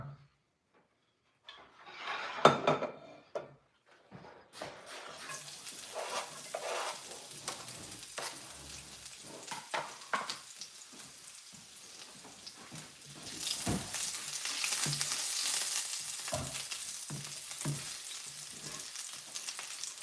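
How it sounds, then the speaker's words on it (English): Fresh garlic hits hot olive oil and sizzles in a pan: after a few scraping knocks a steady frying hiss builds and swells louder, with utensil scrapes and taps over it, no talking. "I am going to go ahead and put some olive oil in here. And then, once I get the olive oil in, I'm going to scrape on all that fresh garlic right there."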